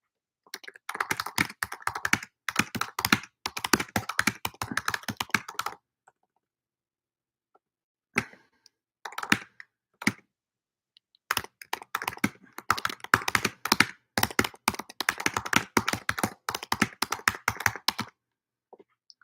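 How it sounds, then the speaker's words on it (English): Rapid typing on a computer keyboard in a classroom lecture setting, two long bursts of dense clicking separated by a pause with a few isolated keystrokes, close and alone with no talk. "let me type it out"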